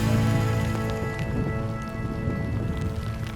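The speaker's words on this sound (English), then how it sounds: "Well, the rain and hail arrived." Rain and hail pelt down steadily outdoors along a cycling route, a dense, loud patter with scattered sharper hits from start to finish.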